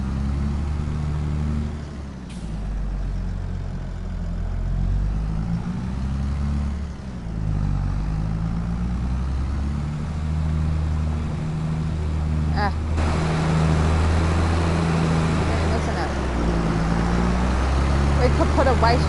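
A big tractor engine drones steadily nearby with a deep, even hum, its pitch rising and falling slightly as it works, while a person talks over it throughout.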